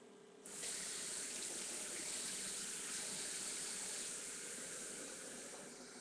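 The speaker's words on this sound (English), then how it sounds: "I turn on my water on my tap as hot as I can get it" A kitchen tap is turned on to run hot water, starting abruptly and then gushing with a steady, close hiss that continues for several seconds.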